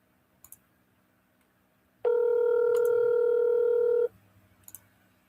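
A steady two-second electronic telephone tone during an outgoing call, loud and close, with faint clicks before and after it.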